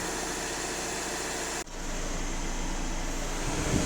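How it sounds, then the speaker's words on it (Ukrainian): A steady Skoda Superb 2.0 TDI diesel engine idles close by with a broadband drone and low rumble, briefly dipping once partway through before settling back to a constant hum. "Хвилин 10-15 автомобіль повинен попрацювати, привикнути до нової роботи двигуна."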